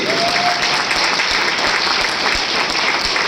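A large seminar audience in Ranchi gives a loud, sustained round of clapping, dense and steady throughout with a few sharper claps standing out near the mic.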